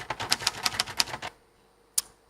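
Rapid clacking keystrokes on a mechanical typewriter, a quick burst of about ten crisp strikes followed by a pause and one more sharp key hit, close and clear.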